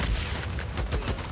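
Rapid gunfire rattles in the video game Days Gone, a dense burst of close, loud automatic shots with sharp repeated cracks over noisy background.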